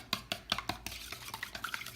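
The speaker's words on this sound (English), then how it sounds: "instead of using a whisk, I'm just going to use my chopstick. And you want to whisk it well." A chopstick whisking eggs and powdery ingredients for tamagoyaki in a bowl, quick rhythmic clinking taps against the side, close and fairly faint, about a dozen strokes in two seconds.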